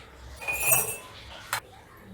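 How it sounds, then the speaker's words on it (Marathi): A spoon stirs ginger into paneer chilla batter in a bowl. A couple of faint, light metallic clinks and a soft scrape sound close by in a quiet kitchen. "अद्रक टाकलेलं ते पण मिक्स करून घेऊ."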